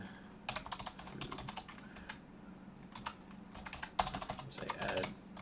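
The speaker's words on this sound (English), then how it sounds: "I might type in some code here" Code is typed on a computer keyboard in quick, irregular bursts of clicking keys, with short pauses between runs, close and fairly quiet over a faint steady hum.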